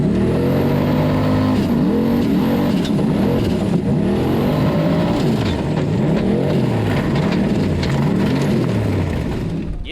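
Formula offroad car in an Icelandic race at Egilsstadir, engine loud and close, revving hard with repeated rising and falling pitch sweeps as it accelerates and shifts across a very dusty track.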